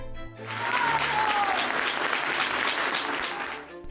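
Sustained applause from a crowd at a silent protest by court workers, greeting court president Norma Piña; dense steady clapping, close and loud, with faint voices underneath.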